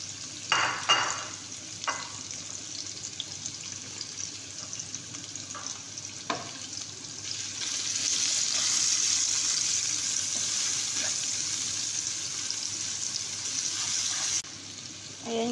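Garlic sizzles and fries in rendered chicken fat in a pan, a steady close crackle that swells louder midway, with occasional stirring scrapes and no talking.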